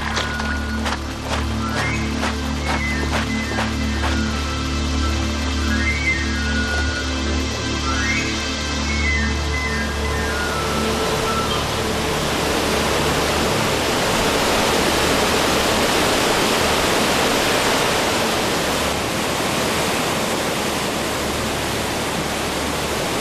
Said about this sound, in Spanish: siempre llegaba acompañado del sonido del agua